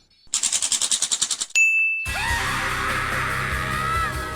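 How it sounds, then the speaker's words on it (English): The final boss of the Mega Man Zero 2 video game lets out a scream: a rapid run of pulsing electronic yelps, a sharp ringing ding, then a loud, sustained distorted roar. "He's got one cool scream though."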